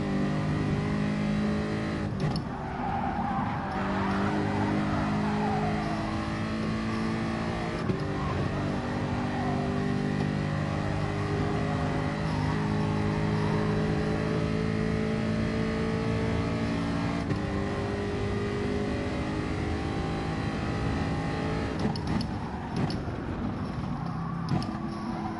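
A racing car engine in the Gran Turismo Sport video game drones and revs continuously, with steady gear-laden pitch shifts and a few sharp gear changes, loud and sustained without talk.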